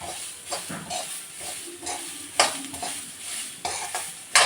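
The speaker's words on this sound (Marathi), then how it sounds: "मटकी छान परतून घ्यायची आहे कांद्यामध्ये आणि तेलामध्ये." Moth beans (matki) stir-fried with onion in oil for misal pav, a steady sizzle broken by repeated scraping stirs of a spoon against the pan, close and alone.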